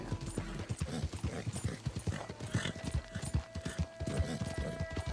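Turkoman horse hooves clip-clop in the Red Dead game: a steady, close run of crisp hoof steps at a moderate gait, with a brief neigh and faint background hum.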